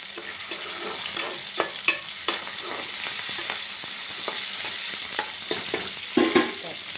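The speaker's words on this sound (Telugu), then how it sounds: "ఇదండి దంచి పెట్టుకున్న ఉల్లిపాయలు వేసుకుంటాం." Crushed onions and tomatoes frying in a pan, a steady soft sizzle with occasional sharp scrapes and clinks of stirring, moderately quiet and close, no voices.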